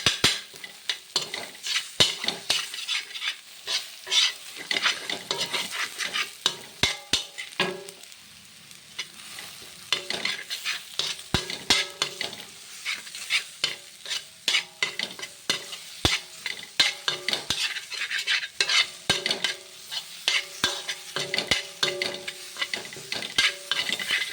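Egg podimas frying on a flat dosa griddle while being stirred and scraped, with a steady sizzle and frequent sharp metal spatula taps in an irregular rhythm, close and fairly loud, with no talk.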